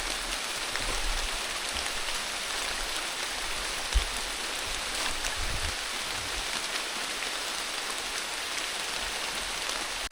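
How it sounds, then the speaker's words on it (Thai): Rain falls steadily on a forest, a soft even patter of drops on leaves and ground continuing unbroken, with one brief louder tap partway through. "ตอนนี้ฝนก็ตก"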